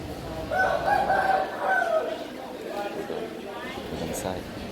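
A rooster crows loudly and close by near the Nong Theng northern bus station in Vientiane, Laos, one long drawn-out call followed by fainter clucking amid background street noise.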